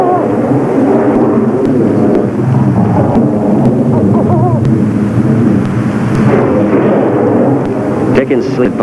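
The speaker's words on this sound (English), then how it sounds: "the roll of distant thunder" Distant thunder rolls through a storm as a low, sustained rumble, heard beneath voices speaking throughout.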